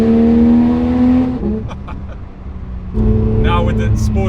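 A Porsche 911 GT3 RS engine drones loudly inside a tunnel, its steady tone dipping briefly before swelling back up in a renewed rev, with echoing reverberation around it.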